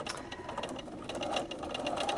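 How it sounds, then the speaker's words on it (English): Sewing machine stitching foundation piecing on a quilt, a steady continuous whir of the needle running close and fairly quiet, with no talk. "I'm going to start by sewing on this line, and I'm going to start stitching a couple of stitches in front of that line."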